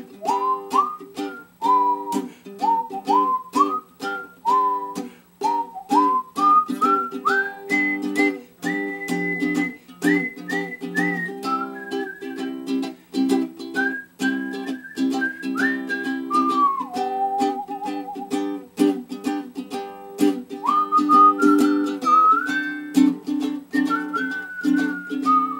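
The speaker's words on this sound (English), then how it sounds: "Take it, whistle." A person whistles a bright, wandering melody alone for nearly half a minute, held and sliding notes over steady strummed chords of a Maccaferri baritone ukulele in a slow song.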